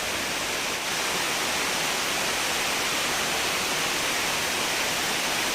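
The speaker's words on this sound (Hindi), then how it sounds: "देखो खूब हो रही है बारिश की, आवाज़ आप सुन सकते हो।" A dense, steady hiss of heavy rain pours down without pause, loud and close, with no voices.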